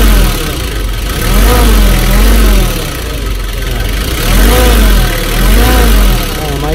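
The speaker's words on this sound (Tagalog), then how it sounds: "Ngayon, pag inapakan natin yung accelerator." A car engine overheating when stopped revs repeatedly as the accelerator is pressed, with rising and falling pitch sweeps in a rhythmic cycle of about four surges, loud and close, with a voice talking over it.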